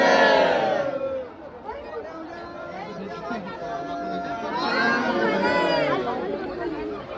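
Dense crowd of devotees jostling at a Veer temple darshan during a yatra festival, a steady loud babble of many voices and shouts close around, with talking throughout.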